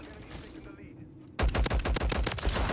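Rapid bursts of Sidewinder gunfire in the shooter game MW3 crack out loud and close after a quieter stretch of game noise, a fast stuttering volley.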